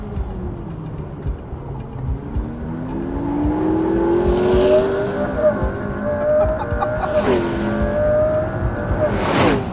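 A British car accelerates hard in race mode on a wet, slippery test track, its engine note climbing steadily through the gears and then falling into a corner. The car is close and loud throughout.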